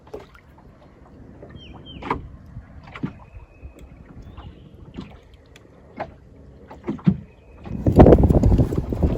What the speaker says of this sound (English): that was a good burst of wind